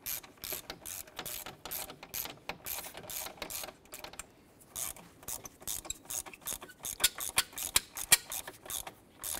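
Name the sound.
ratchet tightening bracket bolt on Ram 1500 VVT solenoid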